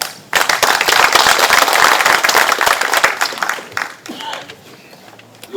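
Audience applause at a Gyeongbuk forum on the 2·28 Democratic Movement, welcoming an emeritus professor to speak; dense clapping with sharp cracks runs loud for about four seconds, then thins out as a voice begins.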